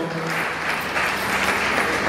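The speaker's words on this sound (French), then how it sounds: "Applaudissons les enfants." An audience at an opening ceremony claps for children in a short, dense burst of applause that holds at an even level, with no voices standing out.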